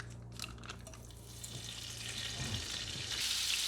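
Butter melts and sizzles in a frying pan on a stove at medium-low heat for shrimp scampi, a soft, steady frying hiss that gradually grows a little louder, with faint clinks early on.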